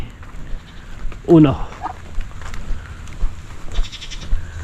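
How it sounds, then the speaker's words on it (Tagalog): A single goat bleats once, close and loud, a short wavering call over a noisy outdoor background with faint voices as rain begins. "Kunin natin kambing"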